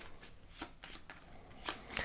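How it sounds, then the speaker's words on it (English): A deck of cards for the Arkham Horror card game being shuffled, with several quick riffling bursts in an uneven rhythm, close and fairly quiet, with no talking. "add it to my hand and then shuffle my deck"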